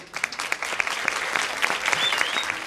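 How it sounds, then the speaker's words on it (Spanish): A crowd at the Ascensión festival claps for people honored for upholding tradition, a brief burst of scattered, individual claps, fairly close, with a faint whistle in the background. "Un aplauso para todas, lo primero."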